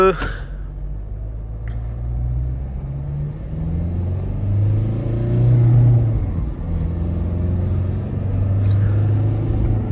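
A Mahindra Scorpio N Z2 diesel drives with a steady low engine rumble that rises and falls as it is shifted into second gear, running continuously under a voice speaking throughout.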